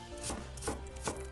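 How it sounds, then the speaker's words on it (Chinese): A knife dicing a peeled apple into small cubes on a board: three distinct chopping knocks spaced about 0.4 seconds apart, close and moderately loud, with no voices. "最后切成小碎丁"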